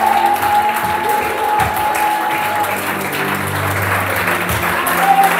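A church congregation breaks into loud, sustained applause that fills the room evenly for several seconds, with faint voices mixed in.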